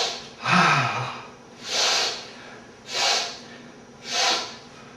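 Deep inhaling breaths during a breathing exercise, four loud airy intakes close to the mic, evenly spaced about a second apart, with no exhales between them.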